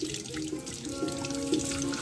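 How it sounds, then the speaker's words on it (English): Tap water runs steadily into a kitchen sink during dish washing, after a water heater has been slowly warming back up following a four-day grid outage; a continuous close splashing hiss with no talk. "I'm finally able to wash some dishes because of the fact that I got the water heater slowly warming back up with Rusty Watt."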